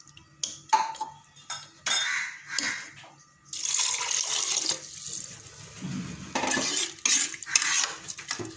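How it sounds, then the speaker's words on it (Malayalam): Three cups of water pour into a cooking pot in a home kitchen, with intermittent splashing bursts and metallic clinks of utensils, close and moderately loud. "ഇനി ഇതിലേക്ക് 3 കപ്പ് വെള്ളം ഒഴിച്ചു കൊടുക്കാം."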